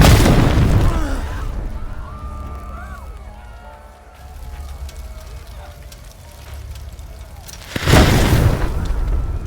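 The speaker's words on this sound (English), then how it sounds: "The fireworks." Fireworks burst in a loud, rumbling rush in the video game The Thaumaturge, then calm to a softer crowd din before a second sharp blast of explosions.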